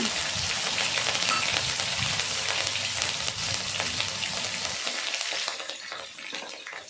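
Whole spices (panch phoron) frying in hot oil for tempering a jackfruit curry: a loud, close, rain-like crackling sizzle that runs steadily, then drops to a softer, thinner fizz for the last couple of seconds, with no talking.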